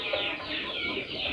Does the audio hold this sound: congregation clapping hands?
no